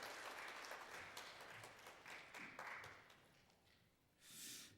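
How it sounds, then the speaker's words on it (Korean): A church congregation at a Sunday service awards ceremony gives faint, scattered clapping that thins out into a few separate claps. A short louder burst comes near the end. "박수 부탁드릴게요."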